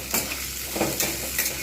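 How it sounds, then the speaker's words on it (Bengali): Peanuts washed with salt and turmeric frying in hot oil, a close steady sizzle with a few short scraping stirs, no voices. "লবণ হলুদ দিয়ে ধুয়ে রাখা যে বাদামটা, সেইটা আমি কিন্তু ভালো করে ভেজে নেব"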